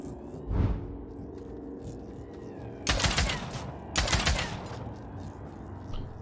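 A gun fires in the battle royale game Realm Royale: a faint thump early, then two louder bursts of gunfire a second apart over a low background rumble.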